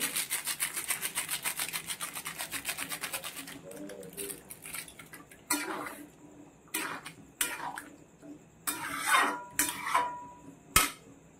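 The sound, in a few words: crushing dried fenugreek leaves (kasuri methi) by hand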